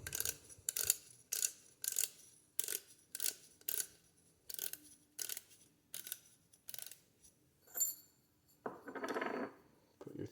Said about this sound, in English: Screw the new adjuster on.